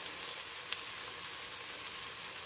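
Onions frying in a pan for vegetable biryani, with garam masala being added: a steady, faint, even sizzle with soft crackle throughout, no voices.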